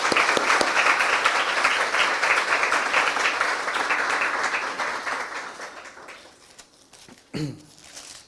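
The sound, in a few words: audience applauding loudly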